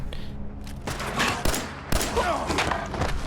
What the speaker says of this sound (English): some of them are shooting